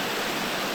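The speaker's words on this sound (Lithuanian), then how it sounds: "raminančiai labai veikia tas upelio tekėjimas" Running water from a small stream near waterfalls fills the moment with a steady, even rush of noise and no other sounds.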